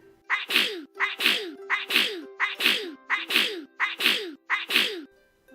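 Seven sneezes from a child, rendered as a sound effect within a Bible reading, arrive in a steady, evenly spaced series, each one sharp and fairly loud with no talking around them.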